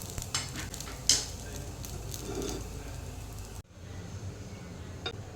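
Onion, garlic and curry leaves frying in a pan, a low steady sizzle with a spoon clink near the start, then a sudden drop to quieter frying after a few seconds.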